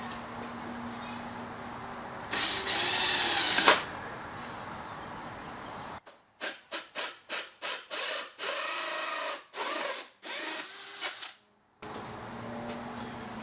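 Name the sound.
drilling a hole through a skull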